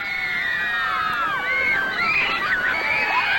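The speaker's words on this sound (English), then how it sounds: "At Centennial Hall, the hysteria, screaming, and the crowd itself hits a new high." Beatles fans, not all of them teenagers, scream hysterically at Centennial Hall, Adelaide, in 1964: a dense wall of shrill, overlapping shrieks and cries rising and falling continuously, loud and sustained throughout.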